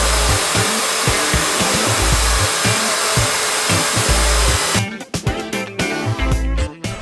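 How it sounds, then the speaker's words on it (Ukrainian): A power drill fitted with Dnipro-M wood drill bits bores into wood, giving a loud, steady high-pitched whine with repeated pulses, then stops and gives way to a few short knocks and clatters near the end. "Дивимось сверла в роботі."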